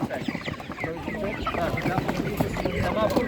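Broiler chickens at a rural animal market cluck and squawk steadily nearby, several birds calling over one another while people chatter in the background.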